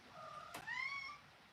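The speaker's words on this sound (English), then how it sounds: "Oh, there's my cat. I don't know if you hear him." A house cat gives a single faint meow with a rising-then-falling tone and a brief click, distant and quiet in an indoor room during quilt stitching.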